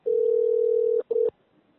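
A telephone tone during a call being transferred to a bank's phone banking officer: one long steady electronic tone of about a second, then a shorter second burst, clear and alone on the line.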